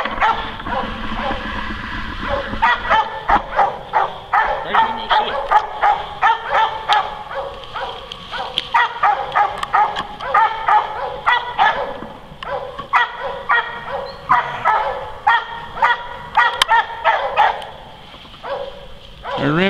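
Hunting dogs barking repeatedly at a shot gray squirrel in laurel woods, a steady run of sharp close barks and yips, with people talking over them.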